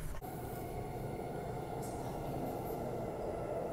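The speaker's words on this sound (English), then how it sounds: "Here's the train" A commuter train on the Redcliffe to Elizabeth Quay line rolls into a station, a steady, broad rumble filling the platform at constant loudness.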